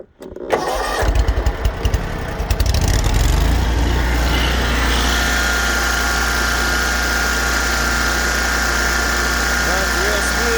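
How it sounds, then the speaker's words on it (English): A 48-inch eXmark Lazer Z HQ commercial zero-turn riding mower with 470 hours cranks briefly, catches, and settles into a loud, steady, close-up engine idle that carries on to the end. "Let's get it started and show you."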